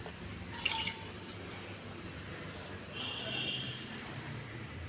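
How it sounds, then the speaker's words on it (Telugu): Water being poured off soaked red rice in a home kitchen, faint splashing, dripping and squishy wet sounds, quiet and close, with a light trickle partway through. "నీళ్ళు మొత్తం వంపేయాలి"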